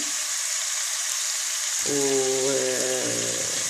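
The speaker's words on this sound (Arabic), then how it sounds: "هسه هذول نتركهم ينحمسون زين" Food frying in a pot during Iraqi home cooking, a constant close hiss and sizzle throughout, joined midway by a steady low tonal hum.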